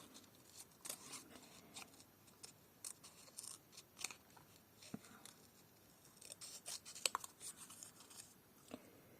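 Scissors snip through stamped paper in a crafting session, a run of quiet close crisp cuts in irregular bursts, no talking.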